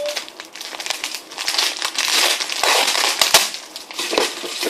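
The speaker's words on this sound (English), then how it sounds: "Sorry about the tape sound." Packing tape is pulled and crumpled on a package, giving a dense, continuous crackling and ripping noise with sharp snaps, loud and close with no talking.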